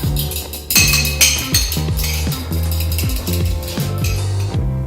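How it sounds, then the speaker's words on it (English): A spoon or whisk clinks and scrapes rhythmically against a bowl while remoulade sauce is mixed, repeated metallic taps over a steady backdrop of background music. "Then I'm just going to give this a nice mix"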